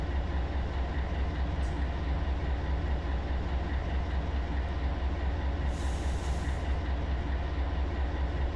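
A heavy container freight train rolls along steadily in Run 8 Train Simulator, heading from Barstow over a summit, giving a continuous deep rumble with rail noise and a brief hiss partway through, no talking.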